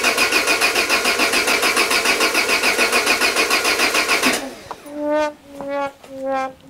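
A carburetted Peugeot 205 with a weakening battery cranks in a fast, even, rhythmic churn for about four seconds without catching, then gives three short whining starter pulses, loud and close.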